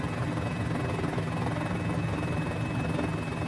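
A Mini-500 helicopter in Flight Simulator flying over Easter Island, a steady loud rotor and engine drone with a constant whine, continuous throughout.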